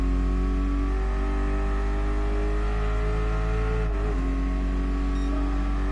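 Race car engine in the video game Gran Turismo Sport, a loud steady drone with layered harmonics, pitch holding through the clip with a brief dip near the end as the car shifts or lifts.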